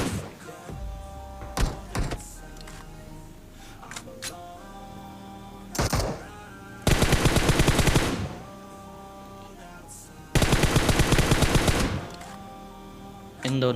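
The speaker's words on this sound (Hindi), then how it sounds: "फैक्ट्री साइड में गोलियों की आवाज़ आती है" Gunfire in the video game PUBG: scattered single shots and thuds lead into two loud, rapid automatic bursts, each lasting over a second, separated by a quieter stretch.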